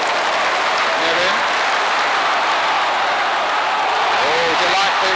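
A football crowd at a 1988 English league match roars and applauds, a dense, sustained wash of cheering noise heard from a distance beneath a commentator's voice.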